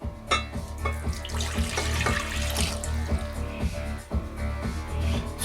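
Very warm water, about 105 degrees Fahrenheit, runs from a tap into a container for rye flour pizza dough, a steady splashing stream with clinks and knocks punctuating it.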